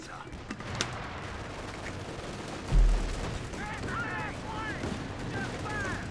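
Gunfire in the World War II strategy game Company of Heroes 2, a 4v4 match on Red Ball Express, with a heavy thump of a shot followed by scattered crackling fire and whining sounds, under ongoing commentary.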